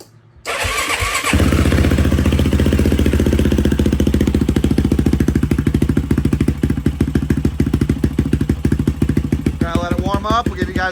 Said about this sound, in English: So we're gonna give it a quick fire up here.